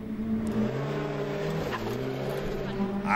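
Lotus race car lapping the Oulton Park circuit, a steady sustained engine drone with shifting harmonic pitch held throughout, moderately distant with no talk over it.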